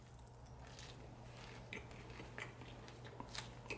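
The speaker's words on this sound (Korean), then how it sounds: "요 패티랑 뒤에 치즈랑 소스에서 바로 먹어볼게요" Biting and chewing into a thick, dry, tough bullfrog meat patty burger with cheese and sauce, giving a few sharp crunchy bites over a steady low hum, close and fairly quiet.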